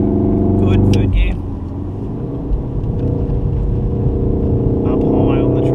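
A Volkswagen Golf R engine pulling in third gear on a track, a steady loud rumble heard from inside the car while a voice gives instructions over it.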